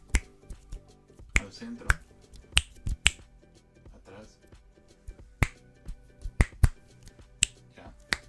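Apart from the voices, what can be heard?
finger snapping during microphone test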